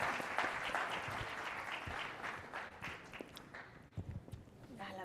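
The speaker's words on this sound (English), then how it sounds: "Please let's join in another applause for our members here in the panel" Sustained applause from an audience at a security conference panel, steady clapping filling the room throughout, with some voices mixed in near the end.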